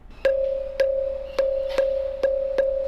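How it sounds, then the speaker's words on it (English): Taps on a stone musical pillar at Vittala Temple, Hampi, produce eight quick, evenly spaced metallic pings on one steady pitch, ringing together like a school bell, close and clear with no voices. "is a sound similar to a school bell"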